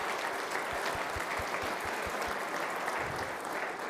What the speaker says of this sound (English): Let's give a round of applause to the organizers of this event